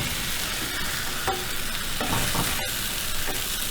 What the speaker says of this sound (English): So I'll show you guys how it looks when I flip it over. So go ahead and flip this carefully.